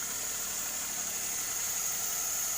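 An engine idling steadily, a continuous mechanical hum with a high whine on top, even and unbroken, at moderate distance.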